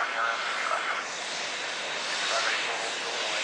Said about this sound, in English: it looks like a Julius takeoff